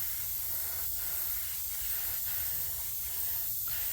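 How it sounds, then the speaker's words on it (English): Spray paint can hissing steadily while a trout is painted, a continuous faint spray with slight pulses of pressure and no talking. "Is it spraying? Yes, it is."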